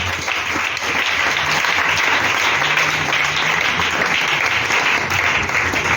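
A church congregation applauds and cheers to acclaim Jesus, with dense, sustained clapping filling the room at steady loudness from start to finish.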